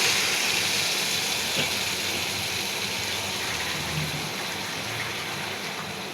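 Water poured into a hot pan of fried hilsa fish and potatoes, producing a dense hissing rush like heavy rain that stays loud and slowly eases off over several seconds.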